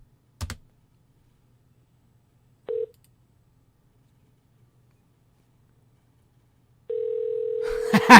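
Short telephone dialing tones play as a phone call is placed: a brief click, then a single tone near three seconds, and a steady tone from about seven seconds that runs to the end, where a faint voice begins.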